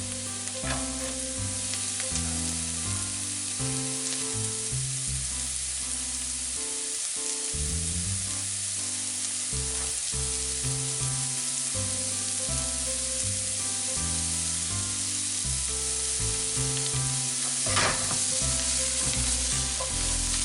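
Carrots sizzle and fry steadily in a pan on the stove while being stirred and tossed, a continuous loud crackle with occasional scraping, cooking for a tomato pasta sauce.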